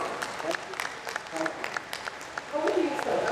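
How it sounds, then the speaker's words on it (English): Audience applause at an architecture presentation, light and uneven clapping with a few sharp individual claps, swelling slightly toward the end, with some voices mixed in. "Come on, everybody, huge round of applause."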